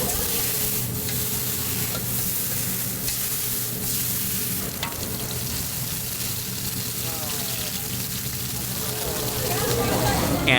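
Oyster omelet batter, with oysters already mixed in, sizzles on a hot griddle at a Taiwanese street food stall, giving a steady close frying hiss with scraping and stirring over busy background noise.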